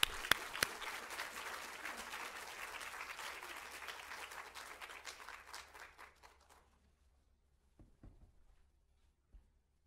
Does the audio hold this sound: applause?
yes